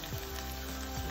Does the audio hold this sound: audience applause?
no